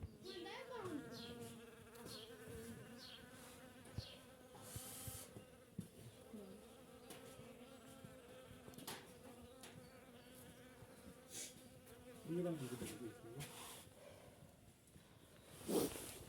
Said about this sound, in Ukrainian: Бджоли вже ось літають наповну.